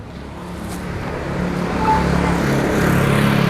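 A 125 cc ATV, the Commander, starts on its electric starter and settles into a rumbling idle, the engine growing louder and steadier over a few seconds, close by with no talking.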